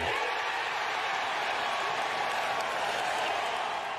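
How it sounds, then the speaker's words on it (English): A golf gallery at the U.S. Open roars and applauds after Bryson DeChambeau sinks the winning putt on the 72nd hole, a sustained, broad wash of cheering and clapping that holds steady throughout. "The sound from the crowd after Bryson DeChambeau sank the winning putt on the 72nd and final hole of the U.S. Open"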